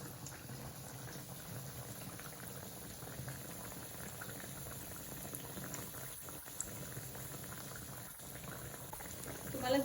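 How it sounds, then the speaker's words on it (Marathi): Aloo bread pakoda deep-fries in oil over a medium gas flame, giving a steady, faint bubbling hiss that continues without a break and without talking. "आता ना चांगलं याला ना गोल्डन कलर यूज कर असं क्रिस्पी तळून घ्यायचं"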